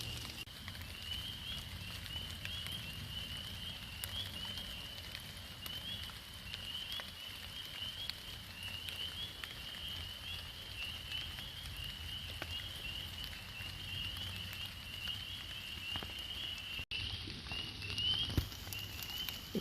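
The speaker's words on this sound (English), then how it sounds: "Got the rain coming down." Light rain falls steadily on a primitive bushcraft shelter covered with plastic sheeting in the woods, a faint continuous patter with no talking.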